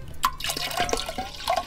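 Water splashes and drips as more is poured into a canning pot while smoked wild Alaska salmon is being canned, a short burst of close, uneven splashing with no voices.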